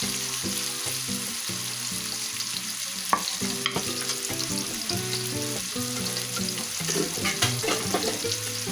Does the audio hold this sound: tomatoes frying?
yes